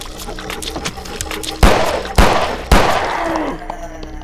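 Three loud, sharp pistol shots from an old Glock in a low-fi PS1-style horror game, spaced about half a second apart over a faint ambient background, each followed by a short ringing decay.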